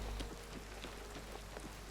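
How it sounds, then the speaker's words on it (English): Steady rain hiss falls in the game Oblivion Remastered, a dense, even patter with scattered droplet taps running continuously and fairly quiet throughout, no voices. "I'm pretty sure in Oblivion the rain clipped through everything."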